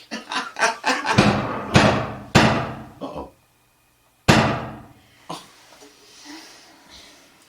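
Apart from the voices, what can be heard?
knocking on a door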